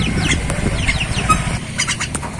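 White-eyed jalak kebo myna calling with a series of short squawking, chattering notes, fairly close and loud over a steady low background rumble, with a couple of sharper bursts near the end.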